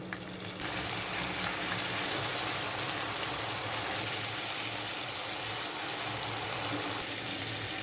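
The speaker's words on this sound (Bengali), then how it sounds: "একটু পানি দিয়ে কষিয়ে নিব" Water poured into onion masala frying in a pan gives a steady, fairly loud hiss and gush that carries on for several seconds without a break.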